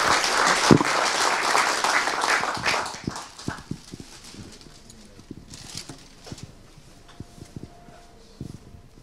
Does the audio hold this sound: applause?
yes